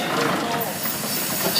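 A 1916 Frick double-cylinder steam traction engine hissing steam, a loud, steady broadband hiss filling the short moment up close, with voices faintly underneath.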